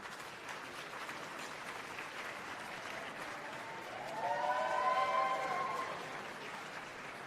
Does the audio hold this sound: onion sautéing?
no